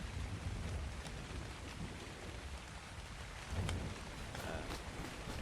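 Steady rainfall in ARK Survival Ascended, a constant hiss of drops on surfaces with faint low rumbles, unbroken for several seconds and heard without talk.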